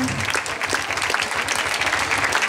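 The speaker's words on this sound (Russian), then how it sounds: "Смотрите, как они вам аплодируют, как они вас поддерживают." Audience at the 2019 StarLight Grand Prix Cup U19 Latin dance final claps for the dancing couples, a loud, dense, continuous burst of applause filling the hall.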